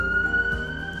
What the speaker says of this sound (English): Not sure if you guys could hear that siren